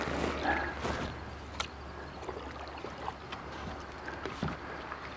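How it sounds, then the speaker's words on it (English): A paddle works a small boat through thick aquatic vegetation, with soft scraping, rustling and dull knocks over faint wind, close and quiet. "To get to this spot, we're gonna have to paddle our way through."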